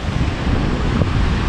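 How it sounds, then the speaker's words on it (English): Strong wind roars steadily across a beach on San Luis, San Andrés, Colombia, buffeting the microphone with a dense, continuous rumble and rushing noise that may hide surf in the background; no voices. "The wind is blowing really hard, so the water's cold."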